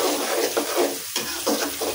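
Sliced onions fry to a crisp in a hot pan, a close, steady sizzle with rhythmic stirring scrapes every half second or so, no voices.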